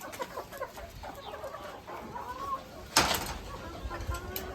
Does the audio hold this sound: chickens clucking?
yes